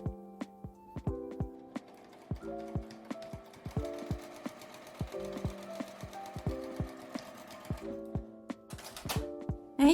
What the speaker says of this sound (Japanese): 5センチ開けて下まで縫います。